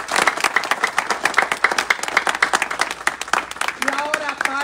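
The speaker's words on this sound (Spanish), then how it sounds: "un aplauso para Jennifer." A congregation at a church gathering breaks into loud, brisk applause with individual claps close by, and a voice starts speaking as the clapping tapers off near the end.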